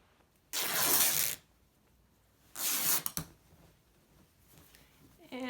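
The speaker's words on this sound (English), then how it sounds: "I'm going to cut this with a scissors and rip." Quilting fabric ripped by hand after a scissor snip, two loud bursts of tearing about two seconds apart, each lasting under a second, close to the microphone with quiet rustling between.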